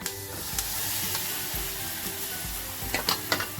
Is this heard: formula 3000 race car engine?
no